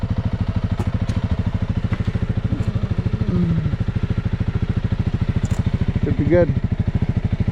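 A Honda CRF300L motorcycle, warmed up in about -10°C Arctic cold, idles with a steady, rapid close-up thumping pulse, while someone speaks briefly over it.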